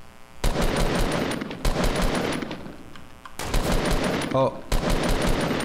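Rapid bursts of automatic gunfire in Fortnite Battle Royale crackle loudly in several volleys separated by brief pauses, with a short exclamation from a player between shots.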